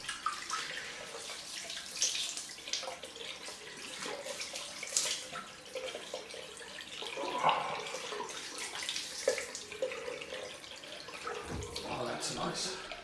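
A bathroom tap runs for a cold rinse after a shave, producing a soft, continuous splashing and trickling close by, with faint background movement.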